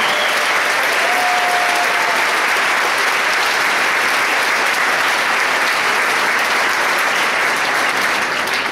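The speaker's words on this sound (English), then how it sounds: "If we could give him a round of applause, Mr. Robert Feldbush." A large crowd at a Cuyahoga Falls marching band performance applauds former band director Robert Feldbush, giving a dense, loud, unbroken wash of clapping that holds evenly for nearly nine seconds.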